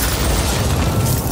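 A secondary explosion in the video game Call of Duty: Modern Warfare rolls out as a dense, sustained low rumble with a gritty roar, loud and unbroken for its brief length.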